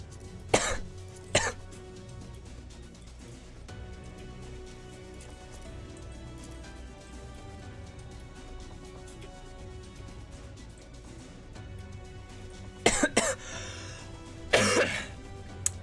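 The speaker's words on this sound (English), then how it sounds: "What is up with fucking coughing?" A person coughs in a few sharp bursts, two near the start and a cluster near the end, close and loud against a quiet background hum with long stretches of near silence between.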